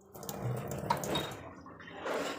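Potatoes being rinsed in water before going into a pressure cooker, a steady wash of splashing and running water with a brief drip-like plink partway through, close and moderately loud.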